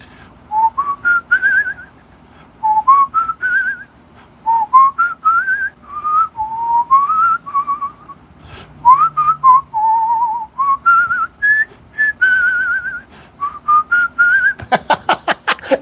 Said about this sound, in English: I whistle like this